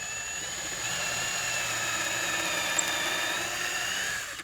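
A power drill bores steadily through wood while building a contemporary nightstand, a sustained whine held close and alone for several seconds before cutting off at the end.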